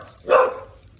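A single dog bark, fairly close and clear, rising out of quiet outdoor background in a residential yard.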